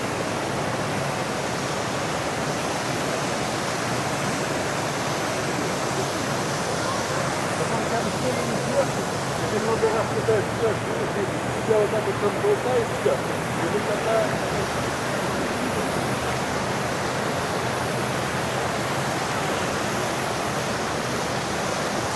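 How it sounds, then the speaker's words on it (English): Loud, steady rush of water pouring over a spillway, a continuous broadband roar with no breaks, close by. "we're coming up on the part of the dam where the water actually flows over"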